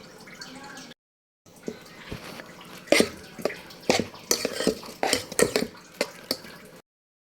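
A utensil scrapes and taps around a bowl in a series of irregular strokes, close and fairly crisp, as thick vada batter is mixed.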